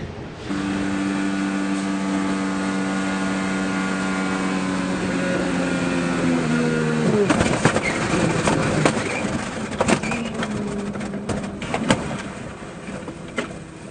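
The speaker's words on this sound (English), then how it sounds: "let's go on board with Will Power and just listen" An IndyCar race car at the Indianapolis 500, heard onboard, with a high engine note that holds steady, then drops and breaks into rough, clattering, scraping noise as the car spins, continuing loud and uneven to the end.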